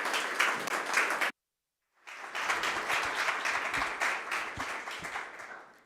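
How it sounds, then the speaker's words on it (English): A conference audience applauds loudly with dense clapping, breaks off into a second of silence, then resumes as sustained, steady applause. "Welcome with a warm applause."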